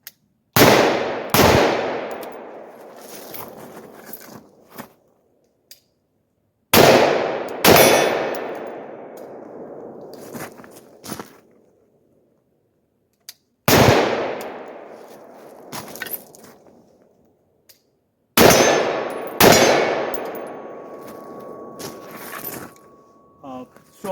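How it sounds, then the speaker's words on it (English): Rifle shots fired at night from a rifle fitted with an ACOG, arriving in four groups of two or three sharp, loud cracks, each followed by a long fading echo, with quiet stretches between the groups. "let's fire a couple of shots at the night"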